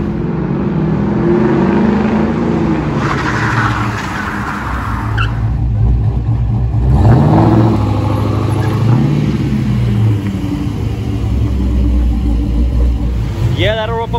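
Car on a proportioning valve brake test, engine droning and tires scrubbing as it accelerates and brakes hard to a stop, loud and close, with a voice talking throughout.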